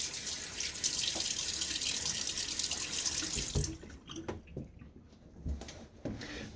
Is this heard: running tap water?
yes